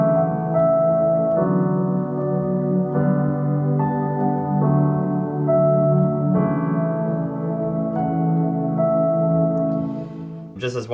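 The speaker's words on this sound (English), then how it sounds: "I've got my regular piano down here, I've got it layered with a pad all the way up to here" Chords played on a Nord keyboard with a piano sound layered over a soft pad and electric piano, sustained and changing every second or so, close and clear, ending with a short higher flourish.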